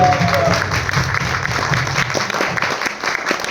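An audience applauds the team at a film event in Nepal, a steady round of clapping that holds throughout, with a brief voice at the start.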